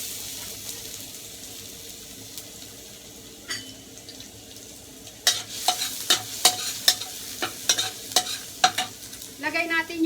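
Garlic frying in hot oil in a pan sizzles quietly at first, then a utensil scrapes and stirs in a run of sharp, close, rhythmic strokes over the steady sizzle.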